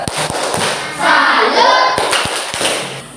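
A school class in a teaching practice session performs a salute clap (tepuk salut), a run of sharp, distinct hand claps in a rhythmic pattern, with children's voices heard chanting between the claps.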